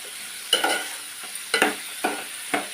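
Onions cooking in a pan are stirred with a spoon, giving four or five sharp scraping strokes about half a second apart over a continuous soft sizzle, close up and with no speech.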